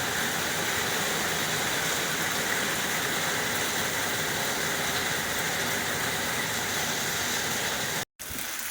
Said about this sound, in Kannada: ಮಳೆನೂ ಕೂಡ ಬರೋಕ್ಕೆ ಶುರು ಆಯಿತು